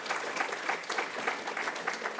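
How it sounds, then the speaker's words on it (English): An audience at a College of Charleston conference applauds, a dense patter of clapping that holds steady through the short stretch, moderately loud from a full room. "please help me welcome Dr. Nunley to the College of Charleston with a big round of applause"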